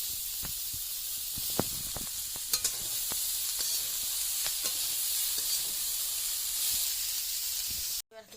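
Cabbage tipped into hot oil in a rural Sundarbans kitchen gives a steady, loud sizzling hiss that runs without a break, with occasional crackles and pops, then cuts off abruptly near the end.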